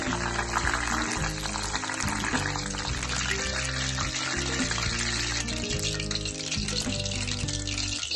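Chopped garlic frying in oil on a stove for spicy sweet-coated puffed rice (murmura) gives a steady, dense sizzle throughout, heard under loud background music.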